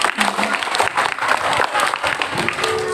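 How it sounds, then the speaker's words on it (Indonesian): Applause for a woman pastor at a children's Christmas celebration in a church, a dense crowd clapping throughout with a few voices rising over it. "Beri tepuk tangan untuk Ibu Pendeta"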